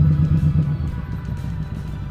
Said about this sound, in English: Revs picking up, I want to change to second gear.